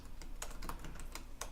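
Rapid, steady keystrokes on a computer keyboard while writing Ruby on Rails code: close, crisp clicks in an uneven rhythm with no voices.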